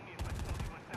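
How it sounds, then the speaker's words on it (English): Rapid bursts of gunfire from the video game Predator: Hunting Grounds, a loud, close volley of repeated shots filling about a second, with a low thumping body under each report and a voice faintly behind. "Oh, I shot him."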